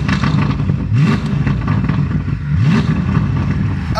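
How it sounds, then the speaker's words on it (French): A very loud car revving in neutral, its deep, rumbling exhaust idle broken by two quick throttle blips about a second and a half apart, each surging up and dropping back, heard close. "Pour faire gueuler un peu plus sa voiture, faut être en neutre"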